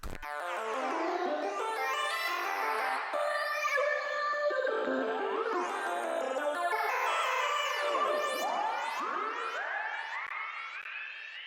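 A heavily processed vocal sample plays solo, sliding and warbling through swooping, echoing pitch sweeps with a dense, shimmering, psychedelic texture and no other instruments.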